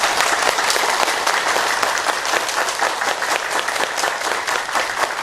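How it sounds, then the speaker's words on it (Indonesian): A crowd at a laughter yoga session at a yoga park in Ubud claps together in dense, sustained applause, loud and continuous throughout without talk. "Tepuk tangan untuk yoga tertawa."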